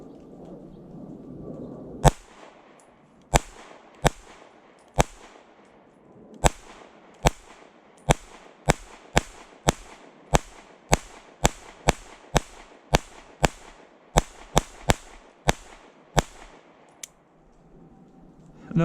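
Fusion Firearms XF Pro .22 pistol firing about twenty sharp shots, close and loud, in an irregular series with short pauses, some fired in quick pairs, after a quiet opening stretch.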